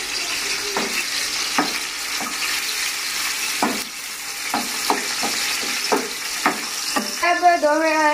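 Garlic frying in ghee while being stirred for a dum bhindi dish: a steady close sizzle broken by repeated scraping strokes of a spoon against the pan, with running water briefly audible near the end.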